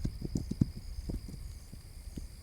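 A horse walks in a stealth action game, its hooves clip-clopping in a quick, uneven run of soft thuds that trails off, close but fairly quiet over a faint steady tone.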